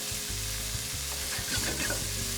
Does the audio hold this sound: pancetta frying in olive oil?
yes